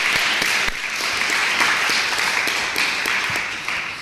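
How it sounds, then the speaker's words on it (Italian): Audience applause for an actress at a poetry festival book presentation, a steady dense wash of clapping from a crowd, loud and continuous throughout with a slight fade near the end. "Grazie alla nostra attrice, un applauso."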